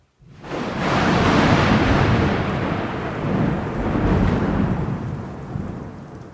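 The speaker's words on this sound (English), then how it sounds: "let's head into the storm" A thunderstorm with a deep, rolling rumble of thunder that swells quickly, fades, then builds again, over a constant hiss of heavy rain.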